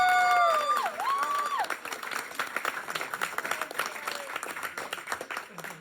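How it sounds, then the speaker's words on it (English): An audience at a panel discussion on Black farmers in America applauds Terry, a thick wash of clapping that swells briefly with a few whistling tones at the start, then settles into steady, gradually thinning applause. "a round of applause for Terry"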